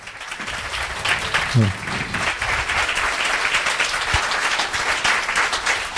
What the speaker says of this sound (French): Donc on peut les applaudir encore une fois.